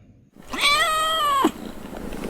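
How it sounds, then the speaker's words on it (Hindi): A big black cat lets out a single loud, drawn-out angry yowl lasting about a second after a brief quiet moment, heard close and alone. "अगर कोई बिल्ली इस तरह से गुर्राने लगे"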